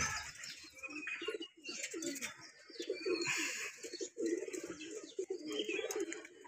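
Several pigeons coo in a loft in a continuous soft, overlapping murmur, with light rustles and faint chirps around them.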